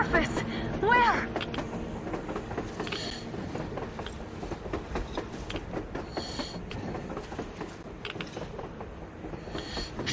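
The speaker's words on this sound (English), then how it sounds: "A train! A damn train on the surface!" A train moving across the surface in the video game Metro Exodus, a continuous rumbling rattle of wheels and cars with a brief rising squeal early on, under game sounds and voices.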